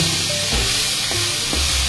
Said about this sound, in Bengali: এখন আমি একটা ফোড়ন দেব